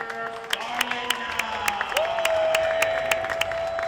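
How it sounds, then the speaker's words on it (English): Large student crowd at a North Andover Scarlet Knights boys varsity hockey playoff game against Bridgewater-Raynham, a steady roar with scattered claps and shouts filling the rink while a sustained tone rings through. "We got a massive student crowd here tonight."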